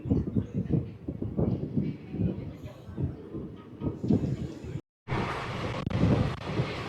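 A passenger train from Bhimavaram to Nagarsol runs on after leaving Kaikaluru station, giving a steady loud rumble with rattling wagons and wind, broken by a brief dropout before the roar resumes.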